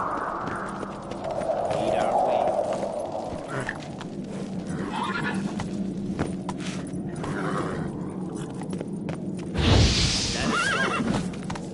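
In the Witcher 3 video game a horse gives a loud, drawn-out neigh and snorts, with steady clip-clopping hooves and rustling beneath, close up, while a voice murmurs in the background.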